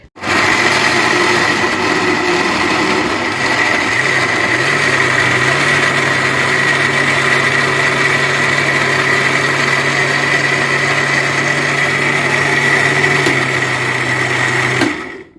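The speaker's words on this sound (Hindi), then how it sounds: "तो चलिए जी, अब मशीन को चलाते हैं।" A juicer-blender machine blending falsa berries into juice runs loud and steady for about fourteen seconds with a constant high whir, then cuts off abruptly.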